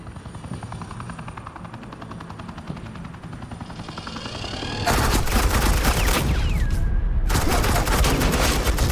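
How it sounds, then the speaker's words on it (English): Suppressing gunfire in Batman: The Telltale Series – The Enemy Within video game: a helicopter drones steadily, then dense, loud automatic gunfire bursts in and keeps going, with a brief whine partway through. "suppressing fire"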